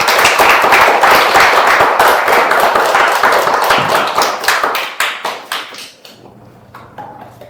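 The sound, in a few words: congregation applauding in church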